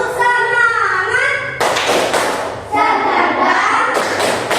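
A class plays the rhythmic 'tepuk semangat' spirit clapping game, with loud bursts of group hand claps and thumps alternating with sections of children chanting and singing.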